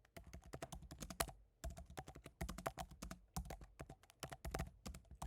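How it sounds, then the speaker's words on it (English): Fast typing on a computer keyboard, close and fairly quiet, in dense bursts of key clicks separated by brief pauses, with no one speaking. "I'll type it out."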